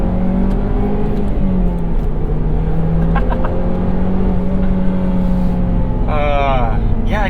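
A 2013 Mazdaspeed 3 launches hard after a clutch drop at 6,000 RPM. The loud engine drone climbs in pitch through the gears, with a cabin voice talking over it.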